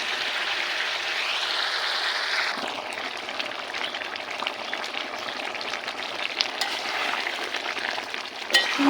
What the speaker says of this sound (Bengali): মাংসটা হালকা জালে কিছু সময় কষিয়ে নিব আমি।